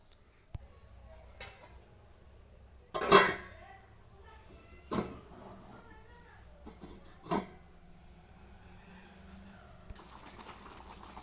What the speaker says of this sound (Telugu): మూత పెట్టి ఉడికించుకుందామండి కొద్దిసేపు